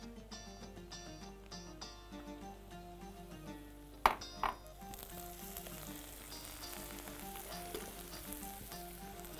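Chopped dill tipped into a hot pan for dill rice, frying with a steady sizzle under faint background music, with a sharp clink midway and light stirring scrapes afterward.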